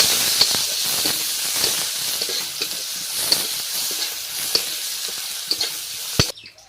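Food sizzles and hisses in oil left over from frying tilapia fish, with steady frying noise and repeated stirring clicks close by. It cuts off abruptly at the end.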